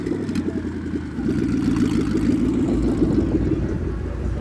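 A car rolls past at a car meet, a steady low engine rumble building slightly in loudness and holding close for several seconds with no talk over it.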